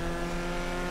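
A Karin 190z engine in GTA V Online drones steadily as the car cruises, a loud sustained motor tone with no speech.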